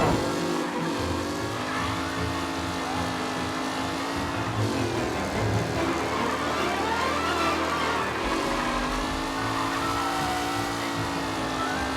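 Race cars roar through a period street race in the video game Mafia, engines droning loud and continuous with shifting pitch as cars pass, tires occasionally squealing, steady throughout.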